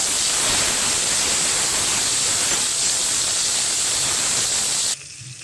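Tomatoes frying in a pan of oil, salted so they soften, for a rasgulla curry: a loud, steady broadband sizzle that holds evenly for about five seconds, then drops abruptly to a quieter hiss.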